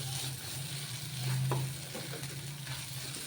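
Masala sizzles steadily in hot oil for goat tripe curry, with a brief louder swell of frying and soft scraping of stirring, close and continuous with no talk.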